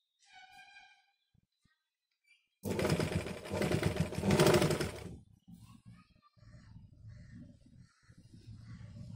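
Sewing machine stitching a frill onto a blouse neckline made from a saree border, a loud steady whir lasting a couple of seconds, followed by lower rumbling handling noise; faint birdlike chirps come before it.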